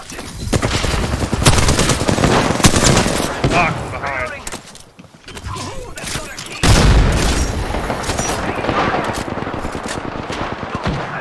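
Rapid, sustained video game gunfire with machine-gun bursts and booms, loud and continuous with a brief lull midway, under players talking.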